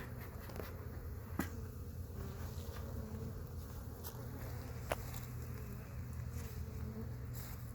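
Honey bees buzz around hives at an apiary during a state inspection, a steady close, droning hum with a few brief ticks and knocks over it and no talk.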